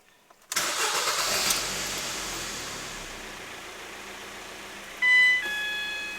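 A 2009 Ford Fiesta 1.6 litre petrol engine cranks and catches, then settles into a steady idle, close up. Near the end, a couple of short electronic warning tones sound over the running engine.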